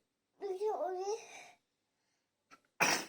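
A voice babbles briefly, then after a pause a short, sharp sneeze bursts out up close at the very end.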